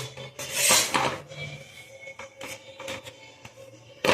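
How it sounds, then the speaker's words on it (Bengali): Slow stirring of a frying sweet mixture in a pan over low heat with a spatula, giving intermittent scraping and rubbing sounds, louder at first and then fainter with irregular strokes. "সিমে দিয়ে আস্তে আস্তে এইভাবে নাড়তে হবে"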